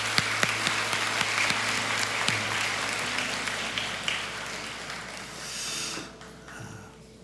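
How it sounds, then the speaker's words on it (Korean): A congregation claps during a Sunday church service, with a broad wash of applause that rises and then fades toward the end, sounding somewhat distant in a large room. "우리 큰 박수로 축복해 주시기 바랍니다."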